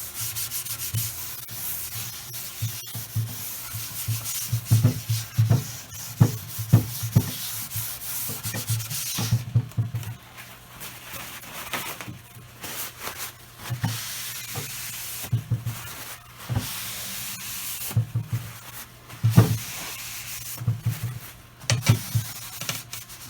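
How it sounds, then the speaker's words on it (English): Old finish being scrubbed off a water-damaged antique wooden top, a series of close, rhythmic rubbing and scraping strokes in bursts with short pauses between them, no talking. "just scrub off the remaining little bits of finish that are on there."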